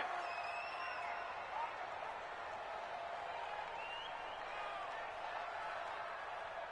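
Stadium crowd in an EA Sports NFL video game, a steady distant roar of cheering and applause that holds evenly throughout.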